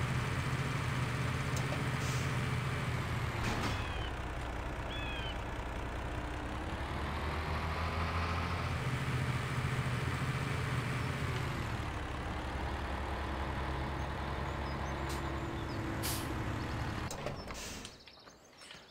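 A lorry engine reverses in the Farming Simulator 2017 video game, a steady droning hum with slowly shifting pitch that holds for most of the clip before cutting away near the end.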